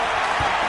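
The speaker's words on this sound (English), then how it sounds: "The crowd getting into it as we come up on a big third down." A packed American football stadium crowd roars in a steady, loud wash of noise as the home side faces a big third down.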